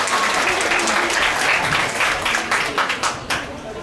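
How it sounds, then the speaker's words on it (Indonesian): Audience at a school patron feast celebration and book launch at SMA Santo Arnoldus Janssen in Kupang breaks into steady, dense applause that holds loud for several seconds and then starts to thin out near the end, with some voices mixed in. "Tepuk tangan dulu"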